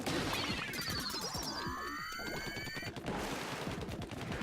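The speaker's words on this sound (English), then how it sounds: "Oh, that explodes pretty darn large." A weapon in Splatoon 2 explodes in a large, crashing burst, with rapid rattling pops and a swooping electronic whine, followed by continuing game noise.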